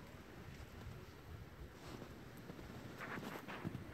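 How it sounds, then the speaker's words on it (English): Strong wind blows through a Michigan blizzard as a continuous loud roar with gusty buffeting on the microphone. The steady, wide rush grows slightly stronger toward the end. "the wind is blowing so hard"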